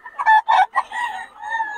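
A stag gamecock rooster at a Bocaue market crows close by, several choppy syllables followed by a drawn-out trailing note, loud and clear with no talk over it.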